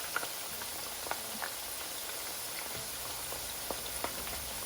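Potato chips frying in bubbling oil on low heat, a soft steady bubbling hiss with scattered faint pops and crackles, quiet and continuous with no talking.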